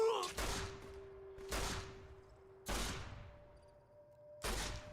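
Four loud, widely spaced gunshots in Fallout New Vegas, each a sharp blast with a ringing tail, fired about once a second, with a steady tone humming between them.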